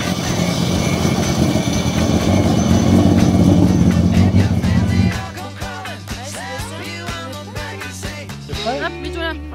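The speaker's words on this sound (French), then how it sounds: "Alors, c'est la première voiture." A rally car roars past loudly at close range, then the engine noise drops away sharply partway through, leaving voices and lighter background sounds at a rally event.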